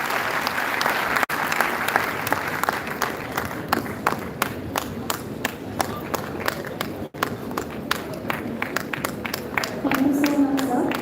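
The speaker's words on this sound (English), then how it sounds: "I request everybody to give a loud round of applause as he joins us" A large audience at an honorary doctorate ceremony at a university gives a loud, sustained round of applause as a guest walks on stage. The crisp, dense clapping runs steadily for about eleven seconds, with faint voices toward the end.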